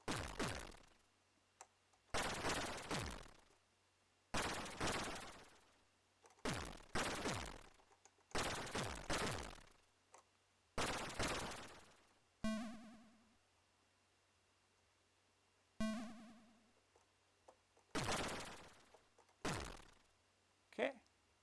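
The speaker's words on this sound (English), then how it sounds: "some guys shooting at me here" Enemies fire at the player in an Amstrad video game: about ten loud, separate bursts of harsh, noisy gunfire, each cutting off sharply, some with a ringing electronic tone, and near-silent gaps between them.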